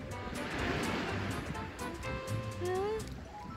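Sea waves wash onto the beach at a hotel resort, a steady, soft surf rush with wind noise on the microphone, while someone talks affectionately nearby.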